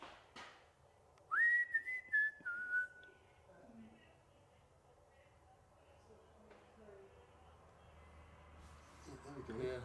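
Whistling sounds in a room, a thin rising tone that warbles and then slides down over a couple of seconds, followed by quieter, faint traces while people talk softly nearby.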